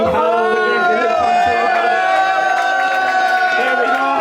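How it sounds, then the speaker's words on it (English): A cricket team celebrates at an awards event, with voices whooping and cheering together loudly and close by in one continuous burst of excited crowd noise. "That brings a lot of cheer from the team."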